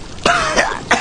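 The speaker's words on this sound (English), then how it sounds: "I'm coughing up blood that ain't mine." A person coughing after getting blood in the mouth on a messy job: three harsh, close coughs in quick succession, loud and dry, with a throat-clearing quality.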